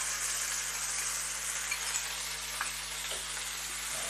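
Yogurt poured into chicken white karahi sizzles steadily in the pan, a continuous broadband frying hiss with a few faint stirring taps, held at an even level throughout.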